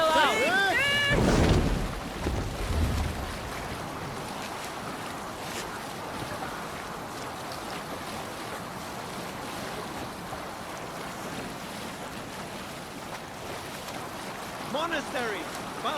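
A Viking longship in Assassin's Creed Valhalla sets out on ocean waves, with a loud splashing surge at the start, then a steady wash of water and wind under game music and occasional voices.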